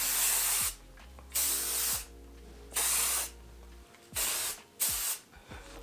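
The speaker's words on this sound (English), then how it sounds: "An extra spritz." Hairspray misted onto styled hair in several short bursts with pauses between, close and fairly loud, each spritz a hissing spray.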